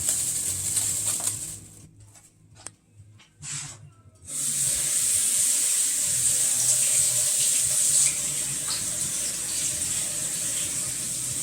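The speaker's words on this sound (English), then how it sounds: "I have my broccoli here. I want to wash them." Broccoli being rinsed under a running kitchen tap: a steady, close hiss of flowing water that briefly cuts out and sputters early on, then resumes as a continuous rush, with no talking.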